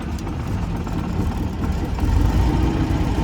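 A 1924 Bentley 3 Litre engine runs at a steady, rumbling idle, loud and close, with a low throb that swells slightly toward the end; no voices are heard.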